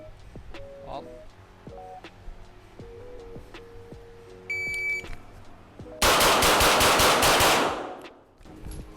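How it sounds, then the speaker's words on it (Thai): A JP Enterprises GMR-15 rifle fires a rapid string of about eight loud, evenly spaced shots near the end, preceded by quieter timer beeps and electronic tones from a shooting-range setup. "มาเดี๋ยวลองยิงจากขวาไปซ้ายแล้วก็จบไปเพจเหมือนเดิม"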